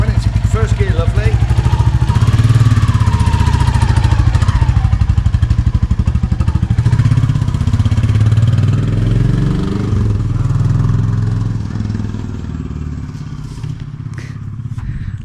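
A Royal Enfield 350 Classic motorcycle engine runs steadily close by, a low thumping beat with some clatter that rises and falls in pitch as it revs, easing toward the end, with no talking.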